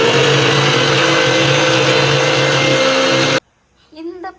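A mixer grinder grinds biryani masala paste with a loud, steady, droning whine that cuts off abruptly after a few seconds, followed by a brief spoken voice.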